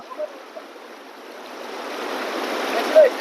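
A river in Nepal rushes with a broad, steady hiss of flowing water that swells louder toward the end, plus a few faint bumps and knocks close by.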